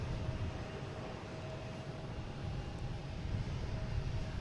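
British Airways jet aircraft at Boston Logan airport, a steady broadband engine roar heard from a distance, continuous and fairly loud with no talk.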